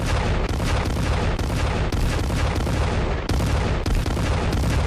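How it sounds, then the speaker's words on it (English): A big movie-style explosion from a Family Guy cartoon scene: a loud, dense barrage of blasts and crackling booms with sharp repeated bursts, continuous and close for several seconds with no talking. "There's a typical movie explosion."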